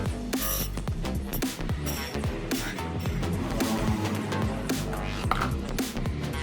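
Close, rapid crackling and sputtering squelches from a nearly empty plastic engine oil bottle being squeezed, continuous and fairly loud, with no one speaking.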